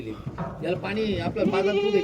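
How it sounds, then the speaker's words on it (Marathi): Goats, including kids and a buck, bleat repeatedly close by, wavering nasal cries overlapping one another, with voices in the background. "तीन शेळ्या आणि दहा पिल्ल नऊ पाठी एक बोकड"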